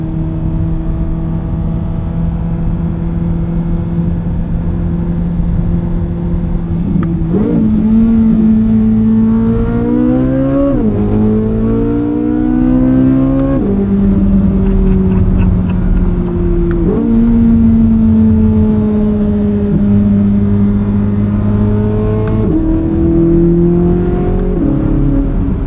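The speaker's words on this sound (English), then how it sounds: "that's what I fell in love with, the engine" A powerful 2023 Chevrolet Corvette Z06 engine revs and accelerates through repeated rising pitch sweeps, loud and close, with no talking.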